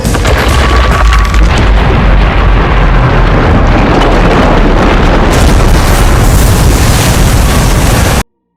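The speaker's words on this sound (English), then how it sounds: "who doesn't love a good explosion?" Very loud explosion from the racing game Split Second: a heavy, sustained booming rumble with crackling debris that fills the whole stretch, then cuts off abruptly at the end.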